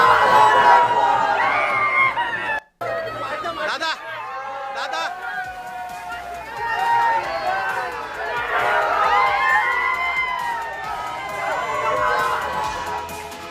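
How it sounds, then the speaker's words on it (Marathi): Party workers celebrating a Raigad Zilla Parishad election victory, a loud outdoor crowd of excited voices and chatter with shouts rising and falling, briefly cutting out near the start. "सध्या कार्यकर्त्यांकडून जल्लोष साजरा केला जातोय"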